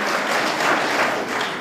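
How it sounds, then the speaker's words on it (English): Steady audience applause at a regional State of the Region Address ceremony in Omaheke, Namibia, a brief sustained burst of clapping with no talk over it. "now you can clap"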